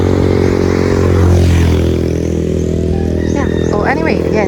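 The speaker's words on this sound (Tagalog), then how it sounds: "Palagpasin ko lang yung motor." A motorcycle passes along a rural road beside a coconut plantation in Tagkawayan, Quezon, its engine swelling and fading close by over steady background noise.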